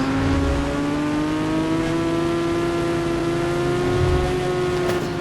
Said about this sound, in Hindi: तो अब हम आपको स्कूटर को ड्राइव करके दिखाते हैं